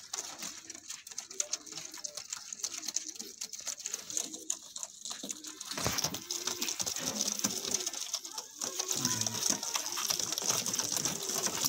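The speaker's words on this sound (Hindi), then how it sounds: "कबूतर पुड़क रहे हैं" Pigeons of a teddy cross breed shuffle and flutter close by, with soft wing patter, scratchy movement and faint cooing over a steady background hiss, growing busier in the second half.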